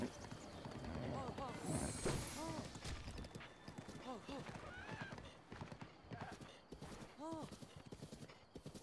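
Horse hooves clip-clopping in Zelda: Breath of the Wild, with a rhythmic trot beneath steady talking and occasional whinnies.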